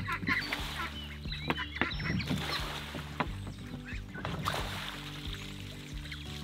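Farmyard chickens cluck softly at a homestead alongside ducks, scattered calls over a low steady background rumble, with a few sharp knocks and splashy sounds mixed in.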